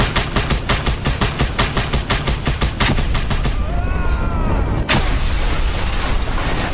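A big mounted gun fires in the video game Just Cause 2, pounding out rapid, evenly spaced heavy shots, then a pause filled with whistling sounds before a sharp blast and more sustained firing.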